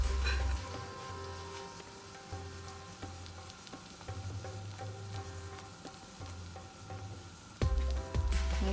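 Spiced Indian omelette with garlic and chili frying in a green pan, a steady close sizzle with faint pops and the occasional clink of a utensil, no talking.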